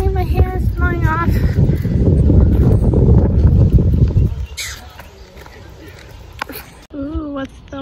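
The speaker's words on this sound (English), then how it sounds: "It's so sunny outside today. But it's windy too." Strong wind buffets the microphone beside a lake on a sunny, windy day, with a loud roar for several seconds that then eases. Someone talks throughout.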